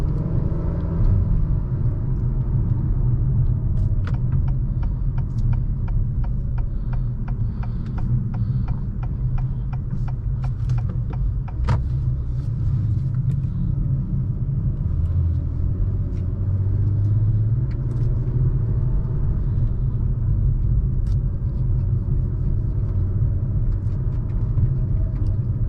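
A 2023 Acura TLX Type S rolls slowly into a parking spot, its engine giving a steady low rumble and hum from inside the cabin, with faint clicks over the drone throughout.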